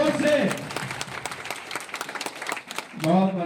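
Scattered clapping from an audience at a foundation's anniversary event in rural India, uneven bursts of hand claps between stretches of talk at the start and end.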